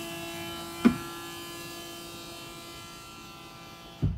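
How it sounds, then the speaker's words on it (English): On a Mercedes SLK R170 convertible, the top mechanism lowers into the trunk with a steady, faint electric hydraulic hum, marked by a sharp click near the start and another clunk as it settles at the end. "The top is now moving into its final position in the trunk."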